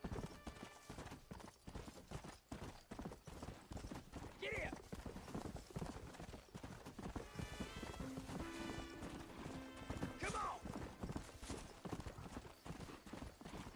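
Horse hooves clip-clop steadily in a video game, with a brief whinny partway through, all running under near-continuous talking and game music.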